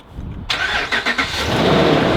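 A donor car's engine cranks briefly and catches, then settles into a steady, loud idle close by, heard during a battery jump-start.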